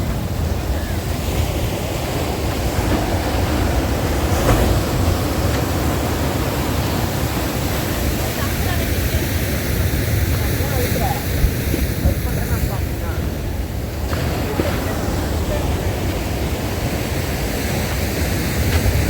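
Waves roll onto Rock Beach in Pondicherry, a loud, continuous roar of surf with wind buffeting the microphone and no clear break in the wash.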